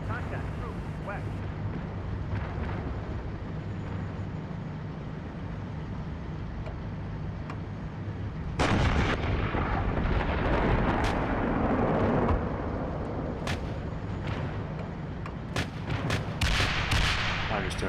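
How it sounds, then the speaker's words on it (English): Video game gunfire pours out as recon by fire: steady background rumble, then a loud sustained burst of shots about halfway through, followed by scattered sharp cracks near the end. "I'm just doing recon by fire."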